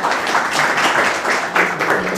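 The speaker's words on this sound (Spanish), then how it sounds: "Un aplauso para" Applause from the audience at a Spanish-language radio and TV season launch event, honoring the director as she is introduced; dense continuous clapping from many people, fairly loud and steady throughout.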